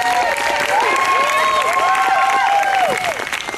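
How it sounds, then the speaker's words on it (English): An audience at a musical theater summer camp finale gives a dense, steady round of applause with some cheering and whistling, filling the room for a few seconds before the performance begins. "Give them a round of applause before they get started."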